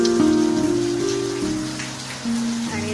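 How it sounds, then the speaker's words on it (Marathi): Rain pours in a village during the monsoon, a steady dense patter of drops on surfaces with some tonal ringing over the hiss, fairly loud and continuous. "छान पाऊस पडते, मजा येते छान."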